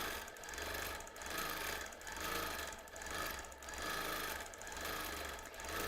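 A sewing machine quilting a project runs in rhythmic bursts of needle chatter, about five even pulses of stitching that swell and dip, fairly quiet and with no voices.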